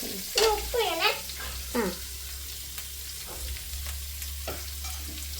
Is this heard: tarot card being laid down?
no